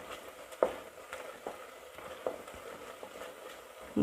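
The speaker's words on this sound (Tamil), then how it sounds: "இப்போ வெங்காயம் செத்த வதங்கட்டும்." Onions soften in oil in a pan for mutton podi kuzhambu, giving a faint steady sizzle broken by a few soft scrapes and clinks of stirring.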